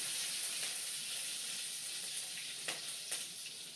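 Curry leaves frying in hot oil right after mustard seeds have popped, a steady close sizzle with a few sharp crackles near the end, no voices.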